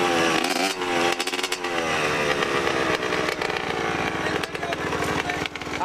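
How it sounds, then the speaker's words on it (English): Yamaha Banshee ATV engine revving loudly and continuously close by, with harmonic buzz rising and falling as the clutch is popped and throttle blipped, plus a few sharper bursts near the start. "then you're going to pop the clutch and give it a little bit of gas"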